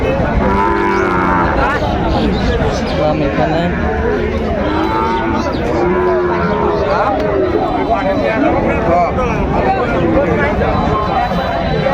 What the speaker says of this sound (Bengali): ষাঁড় আমরা দেখছিলাম এখানে।